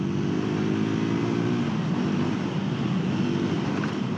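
A Triumph Tracker 400 motorcycle rides over a potholed road, its engine a loud, steady drone close by, with wind rush and no talking.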